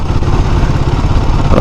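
A Royal Enfield Himalayan 452 motorcycle engine drones loudly and steadily while riding on the highway, shifting up to fifth gear. The close, rough engine rumble runs throughout without any talk.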